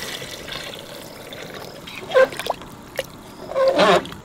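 About two litres of water poured into a cooker of mutton biryani made with a kilo of rice and a kilo of mutton, starting as a soft trickle and rising to louder splashing bursts near the end.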